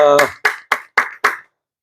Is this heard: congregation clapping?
yes